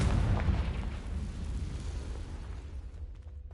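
The Confringo explosive spell in the Hogwarts Legacy video game bursts into a deep, rumbling blast that fades out over a few seconds, heard alone.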